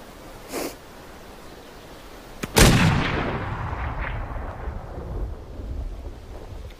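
A single loud gunshot in a formal pistol duel cracks sharply out of quiet outdoor ambience, followed by a long rumbling decay and wind noise; no one speaks.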